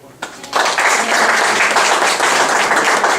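An audience at a district announcements meeting breaks into sustained, dense clapping after a brief lead-in, loud and even throughout.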